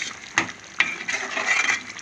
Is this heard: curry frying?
yes